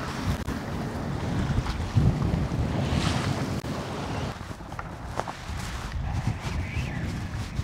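A personal watercraft trolls for barramundi on open water, its engine rumbling steadily as the throttle is eased on and off, under strong wind buffeting and splashing waves.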